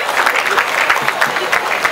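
Brief round of clapping at a college convocation ceremony for a local government chairman, a dense burst of applause from the crowd, fairly loud and close throughout.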